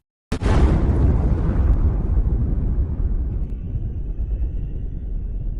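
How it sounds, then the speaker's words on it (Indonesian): A sudden loud explosion of a bomb in a courier locker bursts out of silence, followed by a long, deep rumbling roar that slowly fades. "Kemudian tiba-tiba lemari kurir itu meledak."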